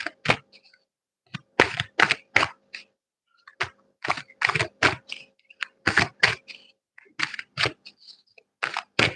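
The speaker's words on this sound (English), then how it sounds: "You did show me saw me shuffle the cards" A deck of playing cards is shuffled by hand in a quiet room: bursts of crisp, clicky card snaps and taps come in uneven clusters with short pauses between them, close to the microphone.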